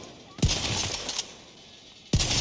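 Two loud, sharp gunshots from the video game The Division 2, spaced well apart, with softer rattling shots and reverberant tail between them.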